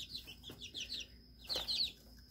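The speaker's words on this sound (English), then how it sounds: "my two little skittish chickies" Baby chicks on a farm peep and cluck in short bursts, several close overlapping calls with brief pauses between them, fairly quiet with no talking.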